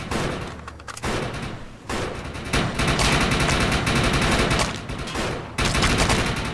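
Dense, loud gunfire from shooting mutants in the video game Defiance, with rapid automatic bursts stacked into near-continuous volleys and only brief gaps.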